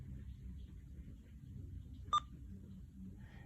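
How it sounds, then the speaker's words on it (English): A Uniden BCD436HP handheld scanner gives a single short electronic beep as it opens its favorites list, a brief clean tone over a faint low background hum. "when you hear the single beep, it means that it's open to favorites list"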